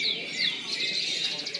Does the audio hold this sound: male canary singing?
yes